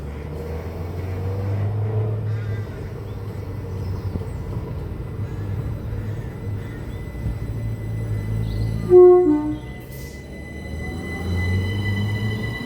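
Great Western Railway unit 387164 pulls out of Goring & Streatley station on the 0902 London Paddington to Didcot Parkway service. A steady low rumble carries throughout, with a brief sharp squeal near the end before the sound eases off.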